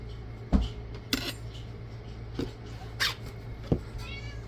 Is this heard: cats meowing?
yes